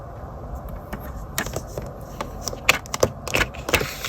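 A blade cuts through card down to a score mark while making Christmas gift tags, a series of small close scraping and clicking sounds, irregular and fairly quiet.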